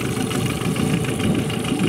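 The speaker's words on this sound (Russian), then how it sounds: "Мотор на холостых работает очень тихо." A small Yamaha 8 hp outboard boat motor idles steadily with a low, even rumble, close by and continuous, with no voices.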